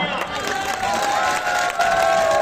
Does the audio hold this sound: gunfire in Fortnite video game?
no